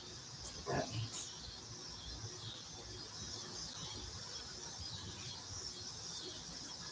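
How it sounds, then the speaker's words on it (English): Cicadas on a warm day make a faint, steady high-pitched drone behind a quiet outdoor setting, with a couple of brief chirps early on. "I apologize, the cicadas just started up, so if you can hear them in the background."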